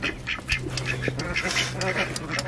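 Ducks quack repeatedly at close range on a homestead, the calls coming in quick overlapping bursts with a little background talk mixed in.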